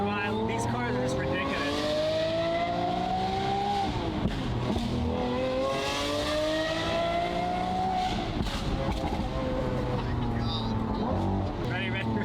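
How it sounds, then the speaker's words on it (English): Revving engine of a Lamborghini Aventador Ultimae with its exhaust valves closed, rising and falling in repeated sweeps, loud and continuous, with a voice talking over it throughout. "Valve's closed. Getting engine noise, but no like real exhaust"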